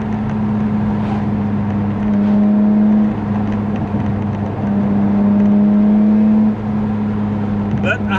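A BMW E46 M3 engine revs steadily toward high RPM from inside the car, a loud sustained drone that holds its pitch with brief dips where the throttle eases, close and continuous throughout.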